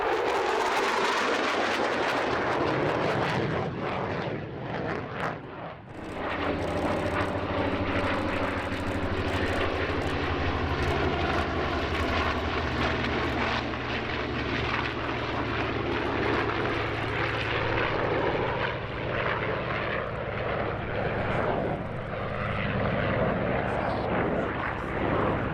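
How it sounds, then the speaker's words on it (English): F-16C fighter jet roaring through an air show demonstration at EAA AirVenture Oshkosh, loud continuous engine noise that dips briefly then surges back as it passes, with faint crowd voices beneath. "the US Air Force Heritage Flight, beginning with an F-16C mini demonstration."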